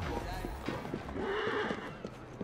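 A horse-drawn carriage in the video game Assassin's Creed Syndicate, with hooves clip-clopping and a horse whinnying, under someone talking close to the microphone.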